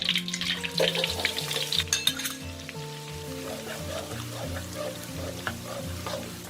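Garlic fries in hot oil, giving a steady close sizzle with bursts of crackling and stirring scrapes near the start, then settling into an even bubbling hiss, with no talking.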